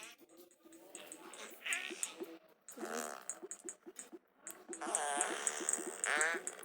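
A toy lets out a series of electronic fart noises mixed with squeaky, whining tones, fairly loud and repeated in bursts with no one talking.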